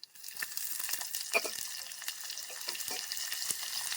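Chopped onions fry in hot oil with mustard seeds, cumin and urad dal, a close, quiet, steady sizzle dotted with small pops and stirring clicks.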